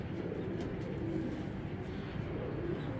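Racing pigeons give soft, low repeated coos close by over a steady background hum, with no talking.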